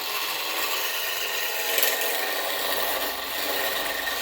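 Wood lathe turning a wooden block as a tool shaves material off bit by bit, a steady close scraping, hissing cut over the spinning hum, with a brief sharper catch midway and no speech.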